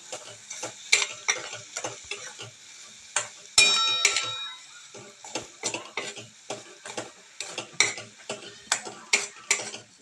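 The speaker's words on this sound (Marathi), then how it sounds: "मसाला आपला चांगला भाजून घेऊया आपण" Spice masala with red chilli powder, salt, garam masala and kasuri methi roasting in a pan for chole, with repeated spoon scrapes and taps in a steady rhythm over a soft sizzle, close and fairly quiet.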